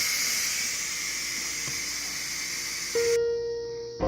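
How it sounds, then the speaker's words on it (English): Boiled potatoes drained from a Ninja Foodi pot, a steady rushing hiss of water and steam pouring out for a few seconds before cutting off, followed by a brief tonal hum. "got my potatoes draining"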